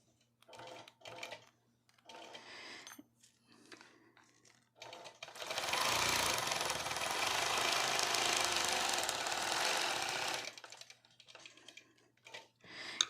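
A long arm quilting machine stitches a quilt with a ruler, its rapid needle hammering running loud and steady for several seconds in the middle, framed by quieter clicks and handling noises before and after.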